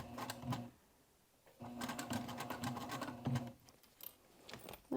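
A sewing machine stitches binding onto a crossbody bag in three quick bursts of rapid mechanical chatter, separated by short pauses, close up and without talk.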